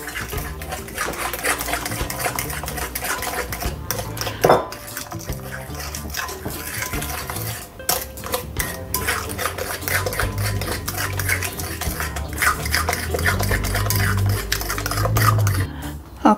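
A bowl of banana bread batter with an egg being mixed in, with busy clinking and scraping of a utensil against the bowl going on steadily and close up, with no talking.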